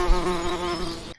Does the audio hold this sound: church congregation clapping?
no